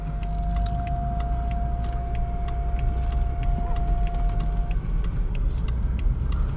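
A 2018 BMW X5M pulling away: a low engine rumble and road noise from inside the cabin, with a steady tone from a chime or electronic signal for the first several seconds.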